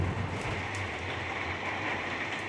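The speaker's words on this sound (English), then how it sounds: "you can hear the rain." Steady rain falls outside, a dense, even hiss heard from a sheltered spot with no breaks across the clip and no voices.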